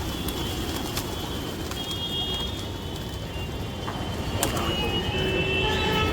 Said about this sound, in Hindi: ये देखें कबूतरों की आमद।